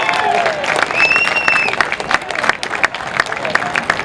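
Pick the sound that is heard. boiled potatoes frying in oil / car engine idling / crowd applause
crowd applause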